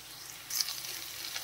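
Capsicum and carrot drop into a pan of frying ginger and garlic. After a short quiet moment, a soft, steady sizzle rises and continues.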